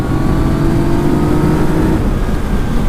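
A Yamaha motorcycle engine revs up under throttle, a loud, close motor note rising steadily over a few seconds with no talking.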